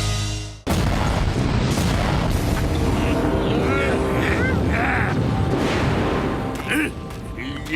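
A cartoon explosion booms abruptly after a brief opening sound, then a long, loud rumbling roar with scattered crackles and whooshing effects sustains to the end, with no clear speech over it.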